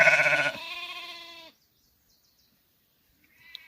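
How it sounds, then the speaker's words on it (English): White Dorper ewes bleat on a farm. Two loud, close, wavering bleats come back to back, then quiet, then a faint third call starts at the end. "Couple older ewes that we have."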